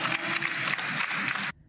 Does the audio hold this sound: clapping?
yes